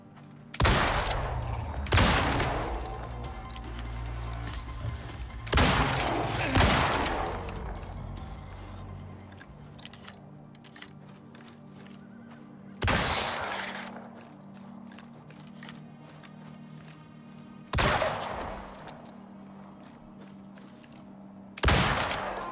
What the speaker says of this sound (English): A pretty absurd gun show we have here, just shooting left, right, and center